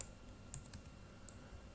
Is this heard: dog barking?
no